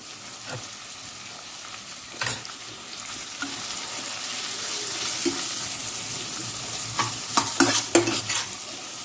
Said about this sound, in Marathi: आपला सगळा मसाला मस्त फ्राय झालेला आहे